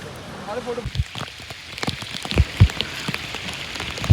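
Heavy monsoon rain pours near a ring waterfall at Savlya Ghat in Maharashtra, a steady close hiss broken by sharp, loud drop impacts.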